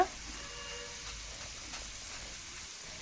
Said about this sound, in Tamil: இந்த மாதிரி நல்லா 2 சைடும் திருப்பி விட்டு ஃப்ரை பண்ணி எடுத்துக்கோங்க